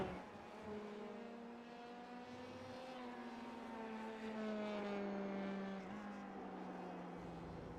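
Open-wheel race car engine in the iRacing sim at Circuit of the Americas, a steady droning whine with harmonics sliding up and down as it shifts and climbs the hill, loud and continuous throughout.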